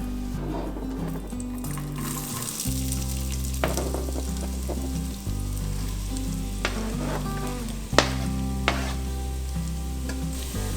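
Medium-chopped onions sizzle steadily in a pan, a continuous close frying hiss with a few sharper pops and crackles, while a low musical hum plays underneath.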